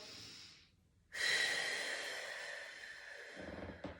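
One deep, drawn-out breath during a core workout on a Swiss ball, heard close and alone: a brief breath, a short pause, then a long airy inhale that tapers off over several seconds.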